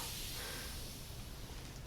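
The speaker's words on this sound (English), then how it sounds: "spray my hair directly with this continuous mist bottle" Continuous mist spray bottle spraying hair coated in sticky hard-hold gel, a steady close airy hiss of fine mist that runs without pause.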